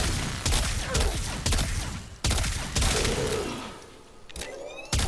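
Fulmin assault rifle firing in the video game Warframe, a few loud sharp shots with gaps between them over a dense, roaring ambient wash that swells and fades.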